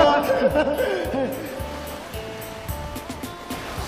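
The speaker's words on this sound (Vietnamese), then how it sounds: "Những con sóng cồn cào nó đang vẫy gọi chúng ta đấy" Sea waves wash onto a crowded weekend beach at Sầm Sơn, a steady surf roar with a few louder swells, heard under men chatting nearby.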